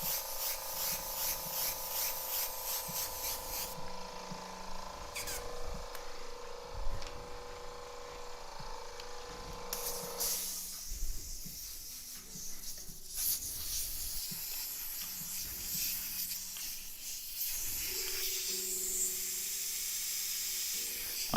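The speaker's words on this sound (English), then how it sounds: "My airbrushes are so loud right now." Several airbrushes leak air while graffiti is painted onto T-shirts, giving a faint, steady hiss that cuts out and restarts in bursts, with soft knocks and handling noises in between.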